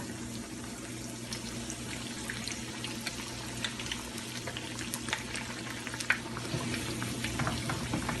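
Besan dahi bara fry in hot oil with a steady, moderate sizzle and bubbling that continues without a break, plus a few small clicks and one brief knock.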